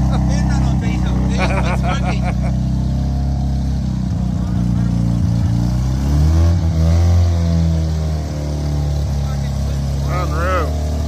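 An old muscle car engine that sat for sixteen years, running on diesel and smoky, rumbles steadily and loudly throughout, with revs swelling midway while people talk over it.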